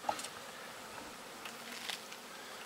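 Honey bees buzz around a hive at an apiary during an August inspection, a faint, steady drone with a few bees passing close by.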